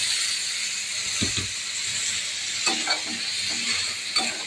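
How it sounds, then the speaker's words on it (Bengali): Cut potato and pointed gourd go into hot spiced oil, giving a steady sizzle and hiss with a few soft clunks and stirring scrapes as the pieces are moved around the pan, close and moderately loud. "আমি এখন কেটে রাখা আলু আর পটলটা দিয়ে দিচ্ছি"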